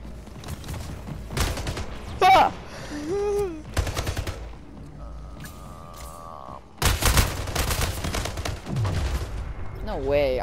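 Gunfire in the video game Splitgate, loud repeated bursts and single shots spread across the stretch, mixed with weapon and game effect tones, in an intense close firefight.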